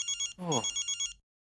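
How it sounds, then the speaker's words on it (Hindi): Electronic telephone ring in short repeated bursts, briefly overlapped by a voice, then cutting off into silence. "अरे ये तो फिर से फोन कर रहा है।"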